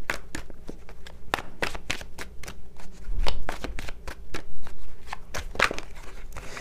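Oracle cards are shuffled by hand in a rapid irregular flurry of crisp slaps and riffles, close and fairly loud, with no voices.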